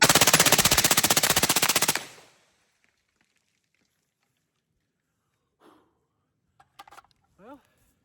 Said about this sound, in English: So these are the first rounds through it.